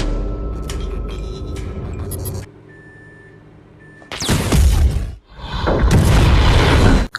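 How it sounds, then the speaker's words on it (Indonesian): An explosion in an action film scene near an electrical panel room lands as two heavy, loud booms with roaring rumble after a quieter stretch of tense background sound and a thin tonal beep. "Dan ada ledakan yang menewaskan pasukan Teddy yang terakhir."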